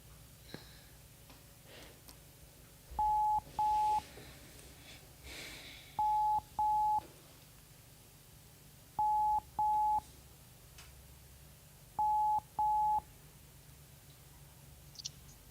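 Telephone call tones: four evenly spaced pairs of short, clear beeps repeat about every three seconds over faint room noise, with no voices.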